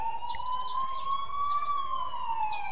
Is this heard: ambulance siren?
yes